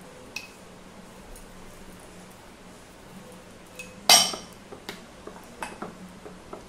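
Semolina batter being mixed in a bowl, close soft clinks and taps of a spoon against the bowl with one sharper knock partway through, followed by scattered light ticks in an otherwise quiet room.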